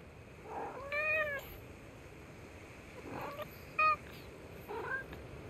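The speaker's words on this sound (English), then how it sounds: "Is that a cat?" A cat in the video game Forspoken lets out several short, high, wavering meows, four calls scattered over a few seconds above a quiet ambient background.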